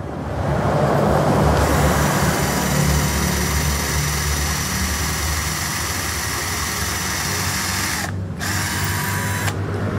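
A Modern M15 cordless impact drill running steadily in normal drilling mode at torque setting 13, a continuous close, loud motor whine that holds level throughout with two brief dips near the end.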